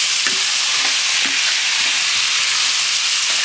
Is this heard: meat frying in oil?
yes